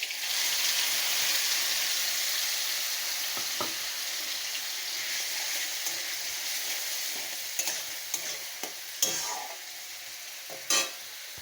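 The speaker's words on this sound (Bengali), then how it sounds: "এখন যে পটলগুলো আমি বেটে রেখে দিয়েছিলাম পটলগুলো দিয়ে দেব, সব পটলটাই দিয়ে দেব।" Ground pointed gourd paste added to hot mustard oil, a sustained soft sizzle, then scattered clicks and utensil knocks as it is stirred, close and fairly quiet with no voices.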